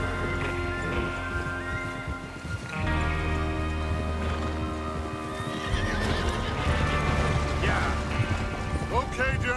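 Horses in Red Dead Redemption 2 whinny and neigh repeatedly over clip-clopping hooves and a soft wash of rain, with a voice talking underneath.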